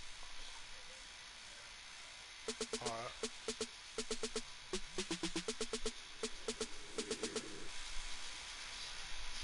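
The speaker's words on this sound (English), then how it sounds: "I like when birds come in" Pigeon-like birds cooing inside a PS4 video game, a series of short repeated coos in quick bursts, fairly clear over a steady background hiss.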